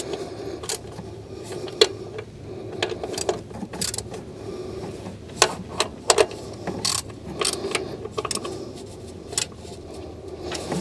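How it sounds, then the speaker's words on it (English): Stubby ratchet driving a 10mm deep socket to tighten small bolts on a Honda Accord's VTEC solenoid, giving rapid close clicking bursts with sharper metallic ticks scattered through, fairly quiet and alone. "Now I like to use a little stubby ratchet on this to make sure we don't over tighten it."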